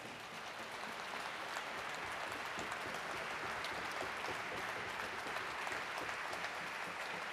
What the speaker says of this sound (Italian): vi chiedo ancora una volta di fare un applauso